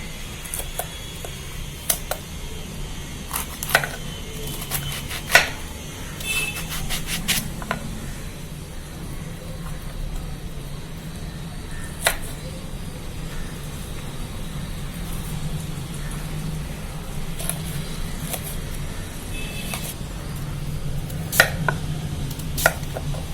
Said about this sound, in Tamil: இப்போ நான் இதை நறுக்கி தோலோட விதையோடு நறுக்கி உங்களுக்கு இப்போ நான் காட்டுறேன்